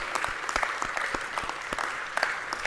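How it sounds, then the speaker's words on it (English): Audience applause at a school academy event welcoming a high school principal, steady clapping of a moderate-sized crowd with individual sharp claps audible throughout, fairly close and without talk. "So we just want to give you a round of applause for being here today."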